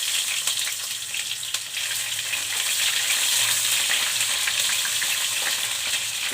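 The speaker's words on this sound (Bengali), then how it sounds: "পেঁয়াজটা একটু ভাজা ভাজা করে নিই।" Onions fry in hot oil in a pan with cardamom, cinnamon, cloves, bay leaves, cumin and dried chillies for chicken kosha, a loud, steady, close crackling sizzle that never lets up.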